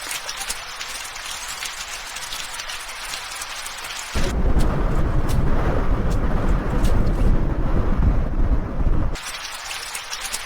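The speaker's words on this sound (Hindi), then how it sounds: "आभा, तुम यहाँ इतनी बारिश में क्या कर रही हो?" Heavy rain pours down with rumbling thunder, loud and close, swelling for several seconds in the middle before easing back to a steadier downpour.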